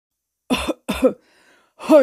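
A storyteller performs heavy coughing in a Korean folk comedy tale: three sharp, close coughs in quick succession, separated by short silences, with a throat-clearing quality.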